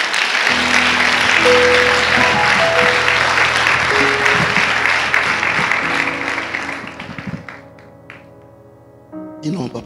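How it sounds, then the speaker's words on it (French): Church congregation applauding during a worship service, a loud, dense wash of clapping with music and voices underneath that fades after about seven seconds, followed by quieter sounds and a brief swell near the end. "Est-ce qu'on peut acclamer le Seigneur pour lui?"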